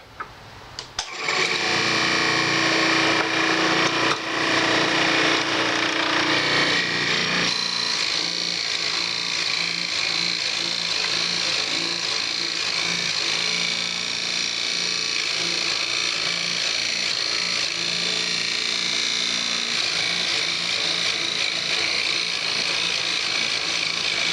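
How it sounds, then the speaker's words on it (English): A wood lathe spins as a turned wooden box is bored out. After a brief start it settles into a steady, loud whirring drone with a tone that changes early on, then runs unbroken to the end. "I'm going to go ahead and bore this out."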